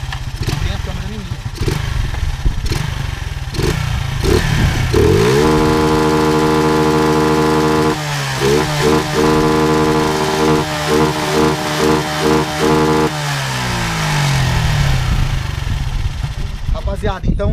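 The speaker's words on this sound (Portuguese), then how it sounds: "Vamos funcionar a moto e vamos ver se corta giro." A Honda Titan KS 125 motorcycle with a competition CDI idles, then revs hard into the rev limiter, the engine holding a high buzzing pitch that stutters and cuts out repeatedly before dropping back down. Someone talks near the start.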